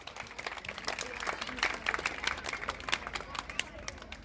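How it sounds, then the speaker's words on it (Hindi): Fairly faint, rapid clapping rises from a school gathering as a student receives a laptop at a prize ceremony, with people talking alongside it. "जोरदार तालियां"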